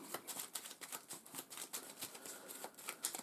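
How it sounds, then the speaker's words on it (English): A deck of cards for the board game Imperium is shuffled up close, producing quick, soft riffling bursts in an uneven rhythm, faint and alone without talk. "Shuffle."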